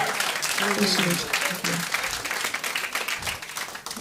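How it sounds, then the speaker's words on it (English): Steady applause from a crowd fills the whole stretch, with a voice speaking over the clapping near the start. "Let's have a round of applause."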